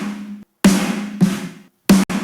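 GGD Pro Snare 7 drum sample struck in a loose, uneven pattern: a decaying hit at the start, then four sharp, punchy snare cracks with a short ringing body, the last two in quick succession, loud and dry with no voices.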